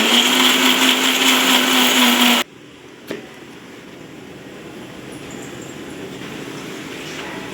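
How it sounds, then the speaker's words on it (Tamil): A mixer grinder whirs loudly and steadily as it blends masala paste with water for Chettinad mutton gravy, then cuts off abruptly, leaving a faint room hum and a brief clack. "கொஞ்சம் தண்ணி சேர்த்து நல்லா பேஸ்ட்டாக அரைச்சி எடுத்துக்கலாம்."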